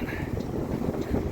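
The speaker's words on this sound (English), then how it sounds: "it's a little windy out here." Steady outdoor wind gusting and rumbling against the microphone beside a broken-down truck on a roadside in Maryland, continuous and fairly loud with no talking.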